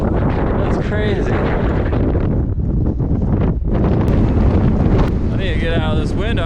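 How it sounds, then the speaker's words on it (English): Strong, constant wind roars across a high mountain summit along the Continental Divide Trail in Montana, buffeting the microphone loudly and without letup. "I need to get out of this wind."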